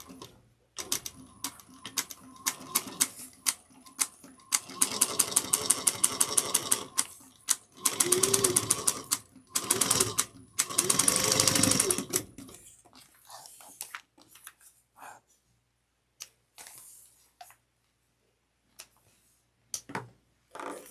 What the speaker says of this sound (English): we're going to sew it together using a 1/2 inch seam allowance